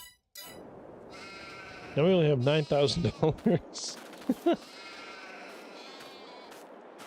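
A sheep bleating in Farming Simulator 22, several wavering bleats close together at mid-clip, with someone talking briefly over quiet background game noise.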